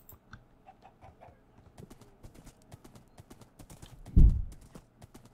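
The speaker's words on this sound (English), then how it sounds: "Okay, that's not a bad horse." A horse's hooves clip-clop on the ground in the Minecraft video game. The steps come as a steady run of light, close taps, with one heavier thud partway through.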